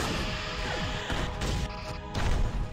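Quantum torpedo impacts on a Jem'Hadar fighter in a Star Trek space battle game, continuous heavy crashing explosions and rumbling blasts layered over one another, loud throughout.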